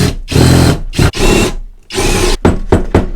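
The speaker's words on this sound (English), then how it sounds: "drill a couple of holes and put some bolts through" A power drill bores holes through the frame of a homemade motorcycle bicycle carrier, running in several loud bursts of whirring with short pauses between them, up close and with no voices.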